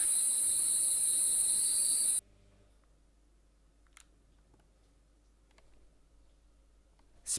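Steady high, dense cricket chirping fills the first two seconds loud and close, then cuts off abruptly, leaving near silence with a few faint ticks.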